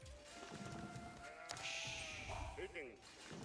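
Sheep bleat in a real-time strategy game as villagers are sent to herd them, with game effects and clicks under steady talking.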